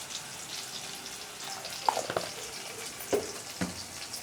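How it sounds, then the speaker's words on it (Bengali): Chopped onions fry in a pan, salted so they cook quickly, giving a soft continuous sizzle with a few sharper clinks and stirs of a utensil against the pan. "পেঁয়াজটা যাতে তাড়াতাড়ি হয়ে যায়, ভাজা হয়ে যায়"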